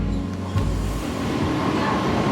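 Local train on the Howrah–Digha line running toward Kolaghat station after crossing a bridge: a steady close rumble with a sharp jolt early on, then a sustained broadband rolling roar with no talk.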